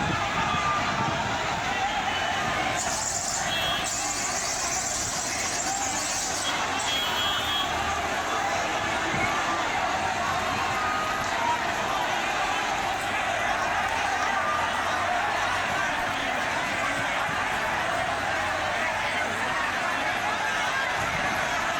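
Large crowd of thousands packed at Bandra railway station in Mumbai, a dense continuous hubbub of many distant voices and shouts, steady and loud throughout with no break.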